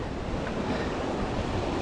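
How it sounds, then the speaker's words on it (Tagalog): Large ocean waves surge and crash in a steady, loud roar of surf, joined by gusting wind buffeting the microphone on the open sea. "hindi biro yung mga alon. Lalaki ng alon."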